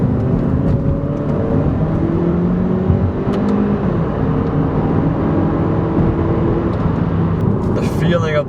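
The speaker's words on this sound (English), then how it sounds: "you get that real kick when that turbo spools up" A Kia Optima SX Turbo accelerating, its engine droning steadily from inside the cabin with a rising hum and some road noise, while a person talks over it.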